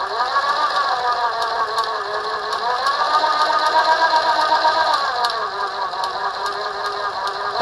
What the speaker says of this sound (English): Take notice to the sound in the next sound clip of the motor while a variable resistor is being turned.